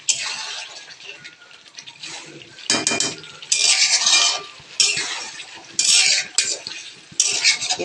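Chicken being stirred and sautéed in a pan for homemade kurma, with a utensil scraping and clinking against the pot in bursts over a soft sizzle, close and fairly loud.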